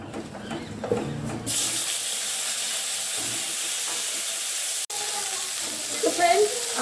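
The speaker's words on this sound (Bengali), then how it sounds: "এবার আমি ফুলকপিগুলো ভেজে নেবো ওই তুলে।" Cauliflower pieces dropped into hot oil in a home kitchen, a sudden loud hiss that settles into a steady close sizzle, with brief faint handling sounds and a short break near the end.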